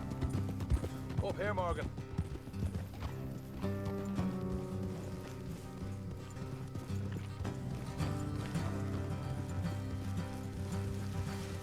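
Horses' hooves clip-clop at a steady walking pace in the video game Red Dead Redemption 2, with a brief whinny, over game music and a short spoken line.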